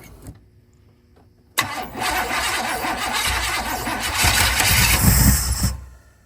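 A faint click, then an old classic truck engine cranks and catches, roaring to life and running rough and loud before revving slightly higher, close by.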